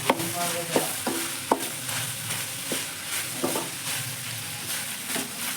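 Egg fried rice ingredients are stir-fried in a hot pan, with steady sizzling and frying under repeated sharp scrapes and knocks of a spatula against the metal. There is no talking.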